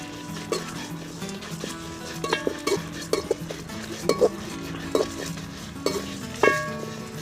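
Ingredients fry in oil in a pan for Tamil-style masala fish curry, with a soft sizzle under repeated sharp clinks and scrapes of a spoon stirring against the metal.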